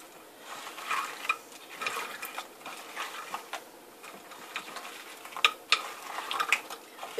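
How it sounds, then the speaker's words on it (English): Goat milk and lye stirred with a spatula, soft scraping and sloshing strokes that come in irregular bursts with a few brighter clinks, close and fairly quiet. "It's a lot easier to mix with the spatula."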